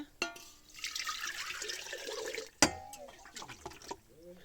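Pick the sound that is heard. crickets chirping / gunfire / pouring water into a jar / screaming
pouring water into a jar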